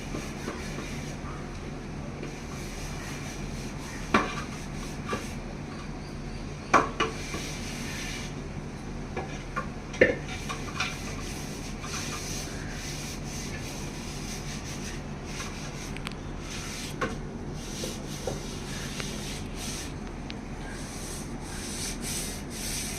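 Oil rubbed by hand over boiled items, a steady close-up rubbing and sliding with a few sharper knocks and handling clicks scattered through, continuous and moderately loud.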